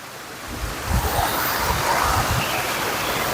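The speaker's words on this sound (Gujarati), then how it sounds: "ઉપરથી એક ઝરણું વહી છે" A waterfall stream rushes in a loud, continuous broadband roar that stays steady throughout, with no voices.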